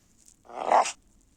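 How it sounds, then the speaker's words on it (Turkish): A dog indoors in a home gives a single close, short growling bark lasting about half a second. The bark is surrounded by near silence. "Bak havladı. Hav hav deyince havlıyor."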